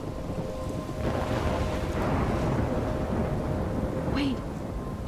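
Stormy Life is Strange video game scene with steady rain and rumbling thunder filling the background, a brief higher swelling whistle near the end; constant and fairly loud throughout.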